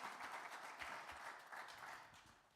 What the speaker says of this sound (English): Give a round of applause for Amelie on the violin.